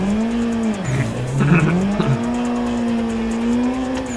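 Tires squeal steadily as a car drifts through corners in a racing video game, a loud sustained screech that dips and wavers in pitch with the engine droning underneath, no talk.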